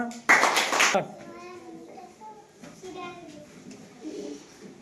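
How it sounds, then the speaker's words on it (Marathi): Children clapping in a school classroom, a short burst of loud, close applause in the first second, followed by children speaking. "बस खाली टाळ्या करायला"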